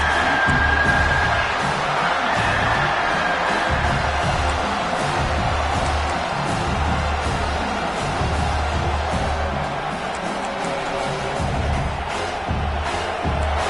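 A stadium crowd roars steadily in an NCAA college football video game during a third-down defensive stand, a broad sustained din of cheering and noise with some swelling, no clear voices on top.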